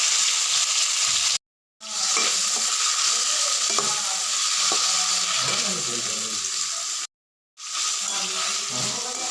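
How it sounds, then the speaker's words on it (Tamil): Star fruit pickle being stirred in a pan, with steady frying sizzle and scraping stir strokes throughout, briefly cut out twice. "ஸ்டார் புளிச்சிக்காவை போட்டு கிண்டி எடுக்கணும்"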